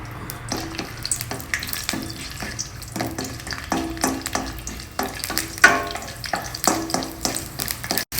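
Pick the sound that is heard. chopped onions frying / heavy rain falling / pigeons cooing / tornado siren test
chopped onions frying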